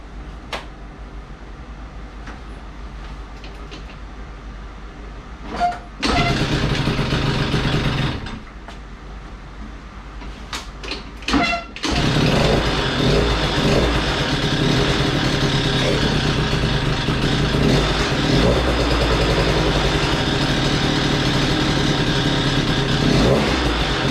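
A Yamaha Aerox moped fitted with an A1 100cc engine tries to start, catches briefly, cuts out, then starts again and keeps running with a loud, steady engine roar close by.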